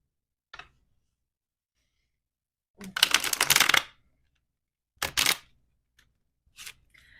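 A tarot deck is shuffled in a few separate quick riffling bursts, close and fairly quiet, with silence and faint breaths between them.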